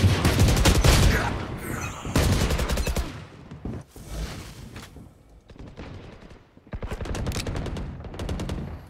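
Rapid gunfire in the shooter game Valorant, bursts of automatic shots and single cracks coming loud and close, broken by short pauses, with a faint voice beneath at times.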